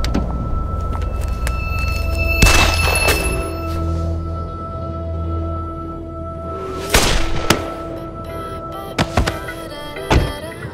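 Gunshots ring out as several loud, sharp blasts with booming reverberant tails, a pair close together early and a few more scattered later, over a continuous low rumble and no speech.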